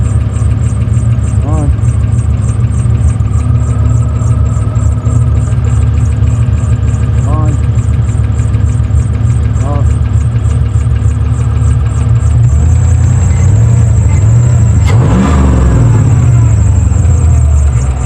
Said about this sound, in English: massive air leak in the engine.